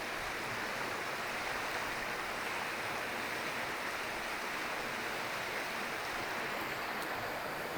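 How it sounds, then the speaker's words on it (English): Steady broadband rush of river water flowing through ancient woodland, a constant even wash with no breaks, fairly soft and continuous throughout. "I can listen to it, but I can watch it for hours, the flow of the water"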